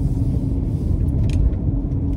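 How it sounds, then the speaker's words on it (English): Interior road noise from a 2020 Lexus NX 300h hybrid on the move, a steady low rumble of tires and drivetrain filling the cabin with a faint higher hiss, no talking. "let you guys enjoy the kind of noise of the car and the kind of perspective of it all as we're going"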